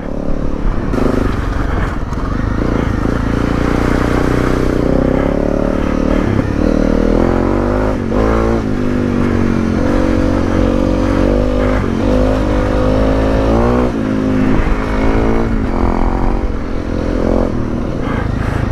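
A Honda CRF250 Rally motorcycle climbs a cambered lane with a loud, continuous engine drone close by, the pitch rising and falling as it revs, with rattling and scraping mixed in and no talking.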